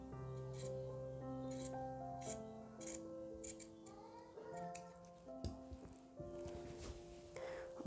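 Scissors snip through cloth for a baby frock in a series of soft, close cuts, spaced irregularly over quiet background music.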